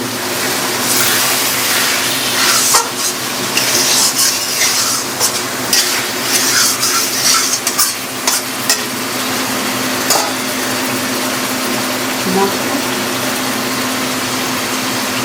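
Chicken meat frying in a spiced masala in a pan, with loud steady sizzling and hissing, broken by the scrape and clatter of a stirring spoon against the pot.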